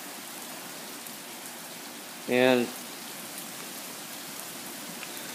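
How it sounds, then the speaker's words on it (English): Steady rain falling during an early-morning thunderstorm, a constant even hiss of drops on surfaces throughout, with a brief spoken word partway through. "It is still raining."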